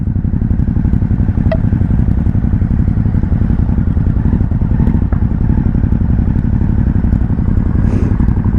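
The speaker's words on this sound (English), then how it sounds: "It feels good to be on a supermoto again." Ducati Hypermotard SP supermoto motorcycle being ridden, its engine a loud, close, steady pulsing rumble with rapid firing beats held throughout, plus light clatter from the ride and no talking.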